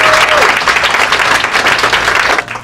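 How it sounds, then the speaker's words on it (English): An audience at a town hall meeting in Baltimore breaks into loud, dense applause that carries on evenly throughout, close and filling the room. "Give her another round of applause."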